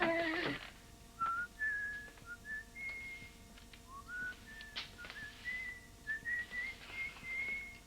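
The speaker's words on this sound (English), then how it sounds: "Quit whistling" A person whistles a wandering tune of short rising and falling notes, fairly close, with small pauses between phrases and no talking.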